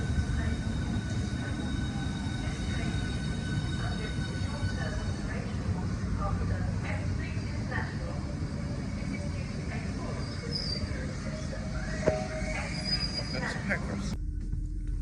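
A steady low rumble of a high-speed electric train to London St Pancras arriving at Sittingbourne, with a constant hum and faint higher whine throughout, ending abruptly.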